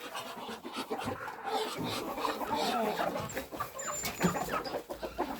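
Several chickens cluck and squawk close by in a busy, overlapping chorus, with rustling and a soft voice in the background.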